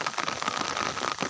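Rain falls steadily in hilly country, a continuous close hiss of drops with no voices.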